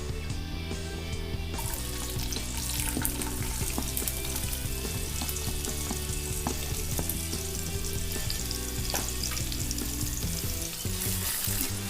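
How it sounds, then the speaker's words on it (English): Onions fry in hot oil with crackling cumin seeds, a continuous busy sizzle with faint scraping and stirring underneath. "now we are going to add the onions to this."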